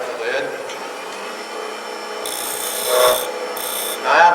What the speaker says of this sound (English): Now I can start whittling away at it slowly